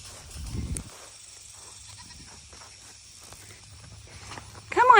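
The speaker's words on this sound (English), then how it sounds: "Come on, tiny little goat herd." A small goat herd let out on a family farm, with quiet shuffling steps and faint rustling, then a sharp, close bleat at the very end.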